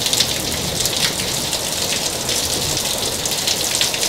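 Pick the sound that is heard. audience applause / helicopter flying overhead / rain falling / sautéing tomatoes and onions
rain falling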